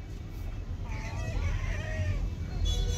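Roosters and chickens at a large poultry market call and cluck continuously, with crowing rising above a busy background of murmuring and other birds.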